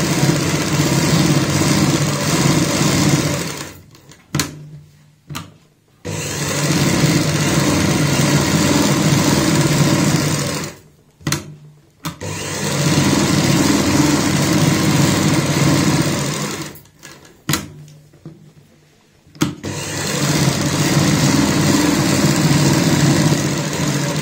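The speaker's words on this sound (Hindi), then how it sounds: "ये हमने सिलाई से अटैच कर ली है ताकि ये इकट्ठी ना हो।" A household sewing machine stitches net onto fabric for a homemade pollution mask, running loud and steady in three long bursts separated by brief pauses.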